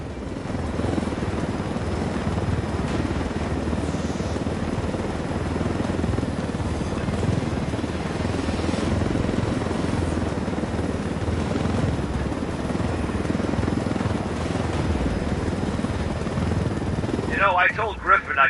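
A helicopter in the video game Ghost Recon Wildlands drones loudly and continuously with a throbbing rotor wash, alongside game voices, and a short burst of crackling noise at the end.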